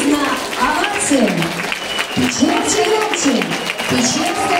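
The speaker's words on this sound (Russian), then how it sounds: "Ребята, вы не скупитесь на овации." Audience applause at a primary-school farewell ceremony in Anadyr, Chukotka, dense and steady clapping throughout with voices and musical tones mixed in underneath.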